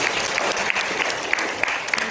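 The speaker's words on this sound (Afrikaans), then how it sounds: "Kom ons gee hulle 'n hande klap" Congregation clapping in steady applause at an Afrikaans church service, a dense, even patter of many hands filling the room with a few sharper claps standing out.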